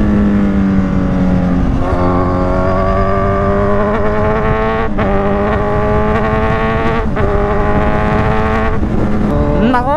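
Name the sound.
Kawasaki Z1000 motorcycle engine revving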